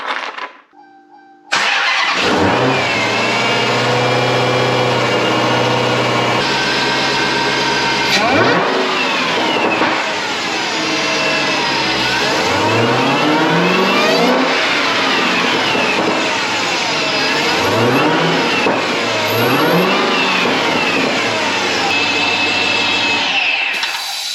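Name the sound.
Dodge Challenger Hellcat engine revving with new intake installed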